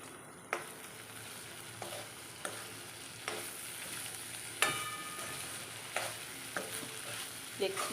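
Spiny gourd (kankoda) shaak is stirred in a pan on the stove, with a spoon scraping in repeated strokes about every second over a soft, steady sizzle and no talking.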